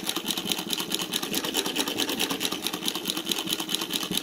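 A Cornely chain stitch embroidery machine runs steadily and loudly, its fast rhythmic needle chatter continuous as it sews a fill over a seam, with no talking.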